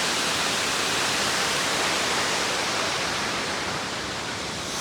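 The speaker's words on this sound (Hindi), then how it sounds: "हम आ गए पास में, देख सकते हो वाटरफॉल के पास में कुछ ऐसा नज़ारा हुआ है" A waterfall roars close by as a dense, even wash of rushing water, loud and unbroken throughout.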